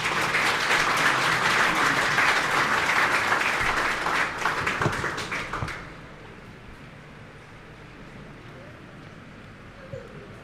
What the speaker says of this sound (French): Accueillons tout de suite Monsieur Thierry Paillet, président de U Central Export, sous vos applaudissements toujours, mesdames et messieurs.